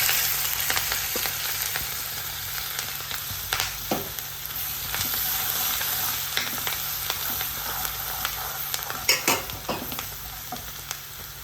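Chopped ginger, garlic and green chilies fry in hot oil for a tomato masala, giving a steady close sizzle broken by occasional scrapes of stirring and no talk.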